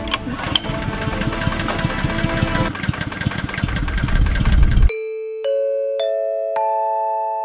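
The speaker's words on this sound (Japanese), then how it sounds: "スイッチエンジンオン。" A small gasoline engine water pump cranks and runs with a loud, rattling chug for several seconds, then cuts off abruptly, followed by a few clear chime tones.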